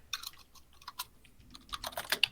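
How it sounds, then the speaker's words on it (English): Keys clatter on a computer keyboard from an unmuted participant on a call, a quick irregular run of light clicks that grows busier toward the end, heard alone without talk. "there's a little bit of typing sound on the phone"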